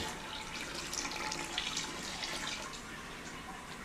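Steady running water pours and splashes continuously into a mash tun over a grain bed while brewing beer, a close, even wash of liquid with no talking.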